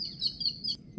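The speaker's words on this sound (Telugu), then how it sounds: "ఒక కాస్త నుంచి అయితే పిట్టల సౌండ్ కూడా వినిపిస్తున్నాయి" Bright, high bird chirps sound in a short quick series, thin and somewhat distant against a quiet low background, in a grove.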